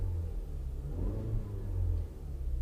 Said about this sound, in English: And what you hear there is 184 horsepower, just 184 horsepower for this engine.